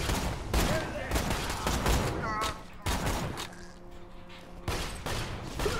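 Rapid bursts of gunfire in the shooter video game Borderlands 2, loud, dense and repeated volleys with brief pauses, a player's voice talking over the shooting.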